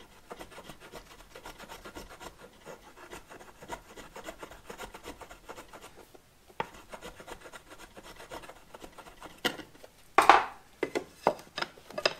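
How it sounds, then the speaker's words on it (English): A small palm plane takes very light shaving passes along a wooden brace for a 1962 Harmony archtop guitar, a soft rapid rasping scrape repeated in close, quiet strokes, ending with a few sharper knocks. "I got a little palm plane here, so I just kind of want to ramp"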